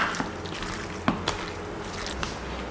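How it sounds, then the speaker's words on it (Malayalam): Chicken is mixed by hand with a beaten egg marinade for Chicken 65, making soft, wet squelches and occasional sharper squishes over a low background hiss. "കൈവച്ച് നന്നായി ഒന്ന് മിക്സ് ചെയ്യാൻ പോവാണ്."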